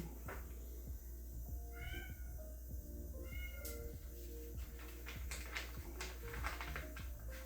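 A house cat meows a few times in a home where someone is working on a cardboard craft tray, the calls faint against steady room noise and soft handling clicks.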